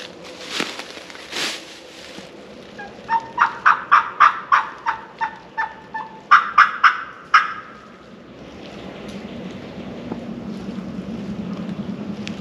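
A wild turkey gobbles in a rapid burst of rattling notes in woodland on a ridge during turkey season, followed by a second shorter gobble, moderately loud, then a low steady rumble.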